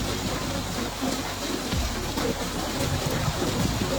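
Rain falls steadily on a flowing river around a fishing boat with a shelter roof, a dense, even hiss close by with faint low patters and no talking.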